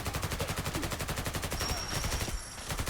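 Rapid full-auto bursts from a 7.62 rifle in the video game Fallout 4, a dense fast stream of loud, sharp shots continuing almost without pause, with a brief thinning near the end.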